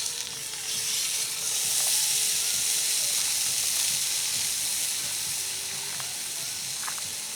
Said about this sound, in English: Going to sear it and brown it on both sides